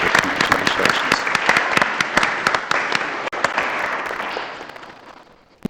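An audience at a city commission meeting applauds a newly sworn-in commissioner, dense sustained clapping in a room that thins and fades out over several seconds.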